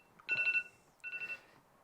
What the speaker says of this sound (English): my alarm's now telling me to turn my phone off to go to bed